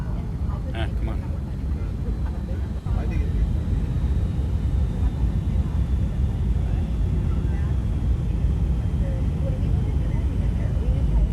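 Steady low engine drone of a simulated airplane in the X-Plane 11 flight simulator, a continuous broadband rumble at even loudness throughout, with faint wind-like hiss above it.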